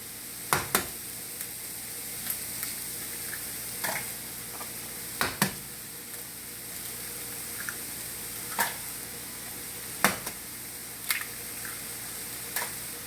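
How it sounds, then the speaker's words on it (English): Eggs are cracked one after another over cauliflower fried rice in a pan, heard as sharp, evenly spaced taps and cracks above a low, steady sizzle. "one of the last things that I do is I crack a few eggs on it"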